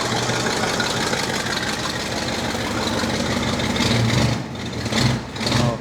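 A junkyard 1966 Mustang V8, long unused, idles loudly and steadily at close range, then blips its throttle in two short revs near the end that sound somewhat sluggish.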